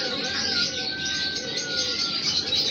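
Soft, sustained cooing from a Kasuri pigeon, a few drawn-out calls heard at close range over a faint background hiss.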